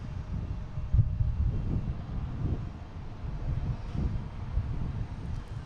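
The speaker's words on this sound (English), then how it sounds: "A321 Neo." An Airbus A321neo airliner passing at Boston Logan airport, a steady low rumbling roar with wind buffeting the microphone, held at a fairly even level throughout.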